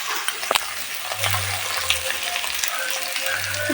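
Soaked rice frying in a pan for basanti pulao, a bright crackling sizzle with scattered scrapes and knocks of stirring and some low clattering underneath.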